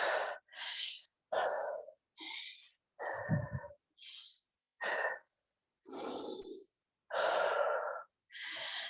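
Heavy breathing after an arm workout: a steady series of about ten loud, close, breathy inhales and exhales, evenly spaced with short pauses, one with a throaty rasp, no talk.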